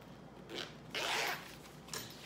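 A zipper on a bag is drawn in three quick, close pulls, the middle one the longest, with no one speaking.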